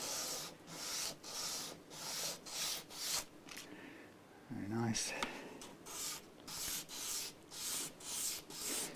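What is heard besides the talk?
sanding a guitar nut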